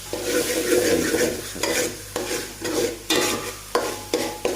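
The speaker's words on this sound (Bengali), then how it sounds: "পেঁয়াজ, আদা, রসুন, কাঁচামরিচ ভালো করে তেলের মধ্যে লাল লাল করে ফ্রাই করে ফেলবেন" Onion, ginger, garlic and green chili fry in hot oil, sizzling steadily while a spoon stirs and scrapes the pan in repeated strokes every second or so, close and loud, with no talking.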